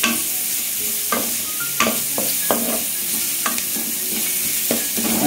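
Carrots sautéing in a pan for chicken fried rice, a steady loud sizzle up close broken by periodic scraping knocks of a spatula stirring, with no voices.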